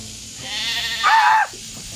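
A sheep gives one close, loud bleat during shearing, preceded by quieter shuffling and rustling, with nobody speaking.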